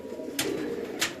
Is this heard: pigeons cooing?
yes